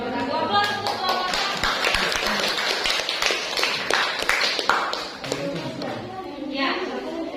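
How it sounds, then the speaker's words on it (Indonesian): A classroom group claps for the first presenting group, brisk, dense clapping close by for several seconds, with children's voices mixed in and fading toward the end. "Aplaus untuk kelompok"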